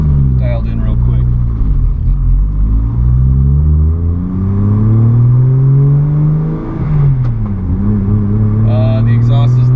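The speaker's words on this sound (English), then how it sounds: "The exhaust is loud." A turbocharged Lexus IS300 pulls hard while driving, its loud exhaust droning and rising through the revs, dipping on a shift, then climbing again close to the microphone.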